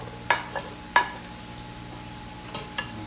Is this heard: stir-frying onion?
yes